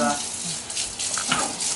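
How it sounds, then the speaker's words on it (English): Water runs from a kitchen sink sprayer in a steady, close hiss with slight splashing fluctuations, used while preparing a brine for Chinook salmon fillets. "I'm going to put the sprayer on."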